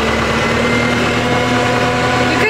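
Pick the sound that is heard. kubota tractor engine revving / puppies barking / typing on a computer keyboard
kubota tractor engine revving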